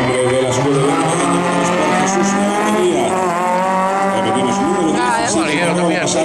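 A Renault Clio Sport phase 2 rally car, number 17, leaves the start line at the Rally de Algar in Cádiz, its engine revving loudly and continuously with rising and falling pitch throughout.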